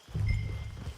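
Horse hooves clip-clop on the ground in Red Dead Redemption 2, a short, soft, close thud of steps slowing down.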